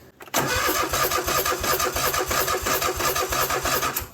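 A car engine cranks briefly with help from a jump pack after a dead battery, catches, and settles into a loud, steady idle close by, with no talking.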